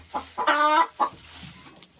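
Ameraucana chickens clucking close by in a henhouse, several short throaty clucks and one drawn-out squawk in an irregular rhythm, fairly loud with no talking.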